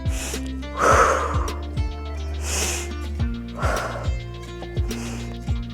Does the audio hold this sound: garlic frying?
no